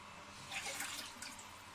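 Water poured into a measuring container while cooking tomato basil chicken fettuccine, a faint, soft splashing trickle that swells briefly in the middle and then settles, alone without voices.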